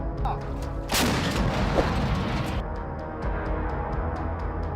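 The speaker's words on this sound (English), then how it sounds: "the Russian troops' tank and ammunition is destroyed with artillery and explodes in a huge explosion in battlefield" Artillery strikes on a battlefield in Ukraine destroy a Russian tank and its ammunition, setting off a huge blast: a sudden loud explosive burst rolls into a long rumbling roar, with smaller cracks and thuds around it.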